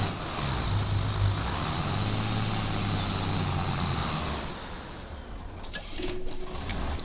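Tractor engine in Farming Simulator 22 with an Indian mod, a steady droning hum with a low rumble that eases off near the end, followed by a few faint clicks.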